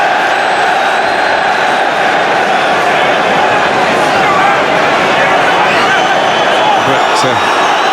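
Dense, continuous roar of a football stadium crowd at a Manchester United versus Manchester City League Cup derby, loud and unbroken with a commentator talking over it.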